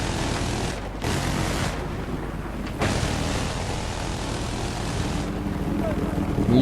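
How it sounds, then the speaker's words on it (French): A helicopter in a multiplayer shooter game, a loud, continuous rotor and engine drone with sharp bursts that break in and drop out, and talk faintly underneath. "Et l'hélico qui vient faire chier son monde."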